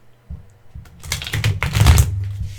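Tarot cards shuffle quickly and loudly in a quick riffle of crisp, fluttering bursts that build into a dense clatter and then settle, with no voices.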